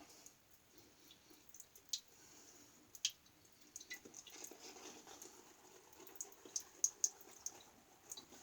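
Shaving equipment, an Oliworks adjustable razor among it, is rinsed under running water, giving faint, scattered drips and patters over a quiet background.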